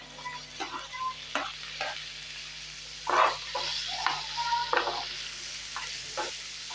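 Steady sizzling of onion frying in a pan, with intermittent scraping and stirring clatters over a constant hum.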